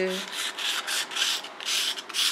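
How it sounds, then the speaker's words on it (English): Rough sandpaper rubbing against a wooden knife handle on a Damascus sashimi knife, a close, steady rhythmic scratching of back-and-forth strokes with a brief tone at the start. "this sandpaper is rougher"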